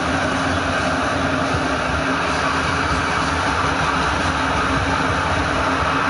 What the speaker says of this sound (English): That is a train going through my backyard,